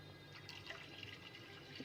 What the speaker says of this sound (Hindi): अब जी हम ये पानी जो है एक बार इसका निकाल देंगे और दूसरा पानी चेंज करेंगे